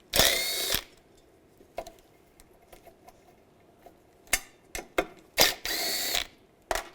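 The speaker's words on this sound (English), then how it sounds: "Take this cover off. I'm just going to use a 10mm socket. Take the 4 nuts off." A power tool with a 10mm socket spins nuts off the exhaust manifold cover of a 2002-2009 Chevrolet Trailblazer, with loud close whirring bursts at the start and end and a few quick clicks and short spins between quieter gaps.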